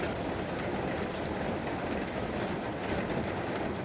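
Heavy night rain falls in a steady, dense broadband wash that stays constant and fairly loud throughout, with no voices.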